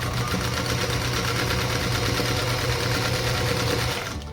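A sewing machine chain-piecing quilt block pieces for a large star quilt block runs in one steady, continuous stitching hum from start to finish, close and loud, then eases off at the very end.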